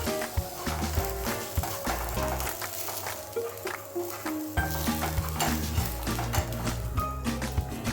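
Semolina (rava) dhirde pancake fries in a pan, with a steady close sizzle under clinks and scrapes of a utensil against the pan as it is loosened and flipped, no talk.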